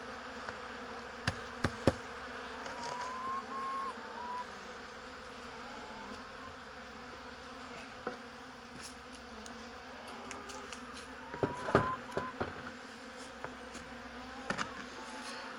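Bees and a large hornet buzz steadily around a beehive, a continuous insect drone with a few brief louder passes close by, faint and without talk.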